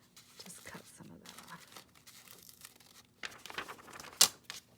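A stuck package of wipes is cut and torn open with close crinkling and ripping of plastic, brief scattered sounds under a person talking.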